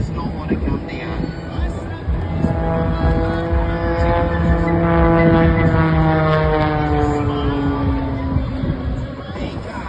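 A propeller stunt plane performs a tumbling wacky-do maneuver at the Atlantic City airshow, its engine droning loud and steady with shifting pitch throughout, while a commentator talks over it.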